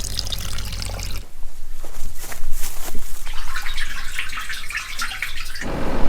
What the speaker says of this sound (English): It's flowing quite a bit of water